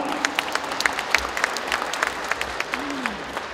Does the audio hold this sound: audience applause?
yes